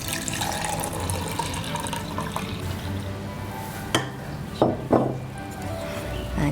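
Water poured slowly into a mixing bowl holding salt, a steady trickle with a few clinks of the bowl and utensil, no talking.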